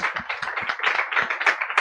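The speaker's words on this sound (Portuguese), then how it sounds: "Salva de palmas para ele." A small group claps together in a steady, continuous round of applause, close and fairly loud, with dense overlapping hand claps and no voices.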